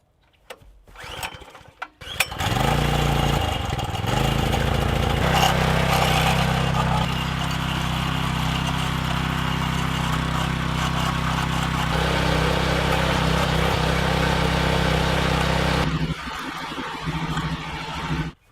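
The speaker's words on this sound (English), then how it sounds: "We're going to till it up, and then we'll bury it in some more composted topsoil." A small garden tiller engine runs loud and close, a steady droning roar held for about thirteen seconds while it churns hard topsoil in a backyard being prepared for raised garden beds, then cuts back near the end.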